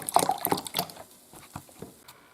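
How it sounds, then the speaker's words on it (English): Beef broth poured into a Ninja Foodi pressure cooker pot to deglaze the bottom, a short close liquid splash and trickle with a few drips, fading after the first second. "I'm going to add 2 cups of beef broth"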